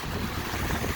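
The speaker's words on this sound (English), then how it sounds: "It sounds like a speedboat" On Lake Michigan, a steady rushing roar rolls in from the open water on a windy, choppy day, fitting a distant speedboat, blended with wind buffeting the microphone and waves.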